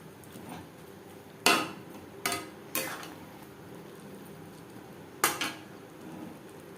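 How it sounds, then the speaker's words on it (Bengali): Fried potatoes and soybean chunks tossed into spices in a pan, a few sharp metallic scrapes and clanks of a spoon against the pan over a faint background hiss, spaced irregularly and close. "দিয়ে দেব ভেজে রাখা আলু ও সয়াবিন। মশলার সাথে বেশ ভালো করে মিক্সড করে দেবো।"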